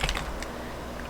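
Quick, close clicks of keys on a computer keyboard in a short burst of typing, with no voices.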